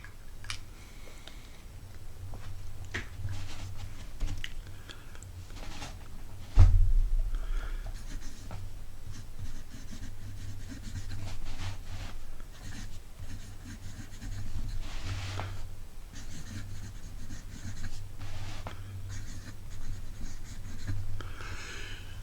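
Broad-nibbed fountain pen laying down green ink on paper. Soft, close scratching strokes repeat in short bursts with small ticks and pauses throughout, over a faint low hum, and nobody speaks.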